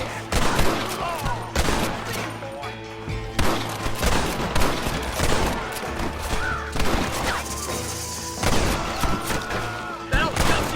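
Dense, rapid gunfire from a Western shootout in the video game Red Dead Redemption: overlapping shots and bursts crack almost continuously and loudly throughout, with voices mixed in among the blasts.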